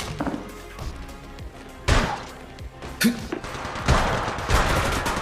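Apex Legends gunfire rings out in rapid bursts of shots and heavy thuds over a busy game soundscape, loud and close, with brief in-game callouts mixed in.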